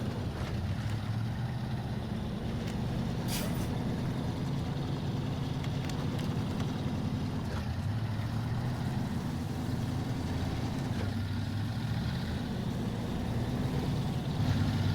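A truck driving through the off-road game SnowRunner, a steady low engine drone and rumble that holds constant throughout with slight variations in pitch.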